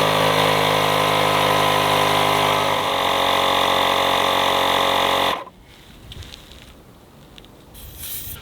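A Milwaukee M12 compact tire inflator compressor runs loud and steady with a buzzing, rattling drone, pumping a 265/70R17 tire outdoors, then cuts off abruptly, leaving quiet background.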